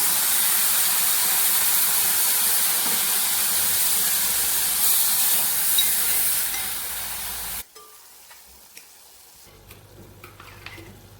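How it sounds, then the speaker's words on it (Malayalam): Strained tamarind water poured into shallots frying in oil, producing a loud, sustained sizzling hiss that cuts off abruptly, leaving quiet bubbling and faint clinks. "ഇനി നമുക്കതിലേക്ക് പുളി പിഴിഞ്ഞ് വെച്ചിരിക്കുന്നത് ഒഴിച്ചു കൊടുക്കാം. അരിച്ചു വെച്ചിരിക്കുന്ന പുളിയാണ്."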